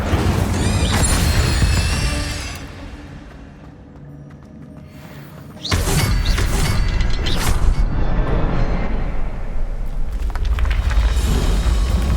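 In the video game Hogwarts Legacy, an Incendio fire spell goes off in a loud booming burst, then a quieter lull, and a second roaring crash of flame and debris follows and carries on loud to the end.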